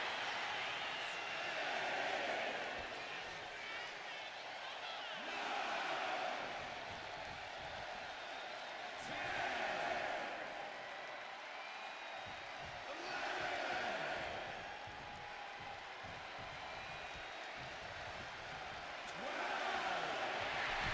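Arena crowd noise from a WWE 2K26 wrestling video game, a steady roar that swells into louder cheering bursts every few seconds and then settles back.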